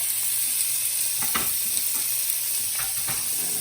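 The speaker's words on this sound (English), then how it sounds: "I'm going to go ahead and listen to that sizzle" Steady, bright sizzling of beef frying in a hot pan for beef stroganoff, with a few soft stirring scrapes and clinks, close and continuous throughout.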